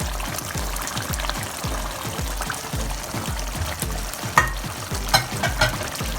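Chicken tikka karahi sizzles steadily in the pan as fresh coriander, julienned ginger and whole long green chillies go in, with a continuous frying hiss, rhythmic stirring scrapes and a few sharper clinks near the end.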